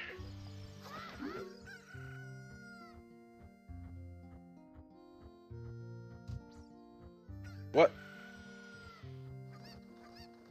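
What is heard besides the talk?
chickens crowing and clucking in a Zelda video game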